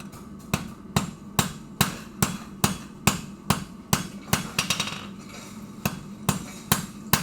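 Blacksmith's hammer striking hot metal on an anvil to draw out a taper, ringing blows landing in a steady rhythm, about fifteen close, loud strikes with brief rebounds, no talking.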